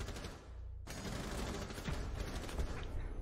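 Rapid gunfire in Rainbow Six Siege, a brief hush followed by a dense burst of shots that keeps going to the end, fairly quiet in the mix.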